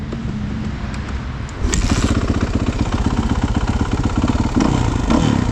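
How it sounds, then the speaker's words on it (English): Kawasaki KX450 motocross motorcycle with A-Kit suspension, engine running close by with a steady rattling, pulsing drone that rises as the throttle opens partway through, with no talking. "Thank you, George, for letting me try your KX450."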